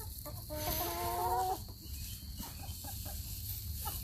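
A chicken in a backyard garden gives a brief, fairly faint clucking call outdoors in the morning, followed by quieter scattered clucks against steady background ambience.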